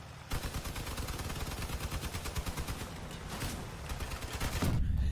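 Vehicle-mounted guns fire in the video game Crossout, a rapid continuous rattling burst of automatic gunfire lasting several seconds, loud and close, growing heavier near the end.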